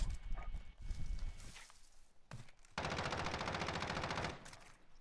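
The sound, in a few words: gunfire in a video game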